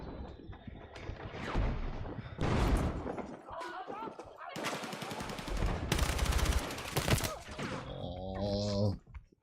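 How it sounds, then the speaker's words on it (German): Battlefield 6 combat with a tank firing: heavy booming shots and rattling gunfire, several loud blasts in the middle, layered under excited chatter from players. "Ja, der Panzer schießt aber rein."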